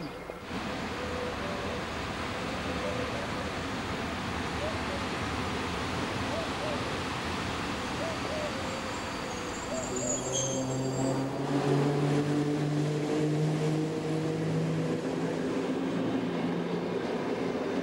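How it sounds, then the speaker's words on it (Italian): E.656 Caimano electric locomotive with twelve 400 kW traction motors, a steady loud rumbling roar of running motors and wheels, with rising whining motor tones building toward the end. "Inconfondibile sound dei 12 motori, 82-400FS, ciascuno da 400 kW, del Caimano"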